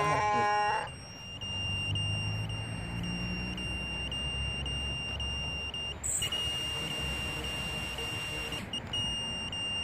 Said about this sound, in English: Buzzer's going off, you can see, you can hear.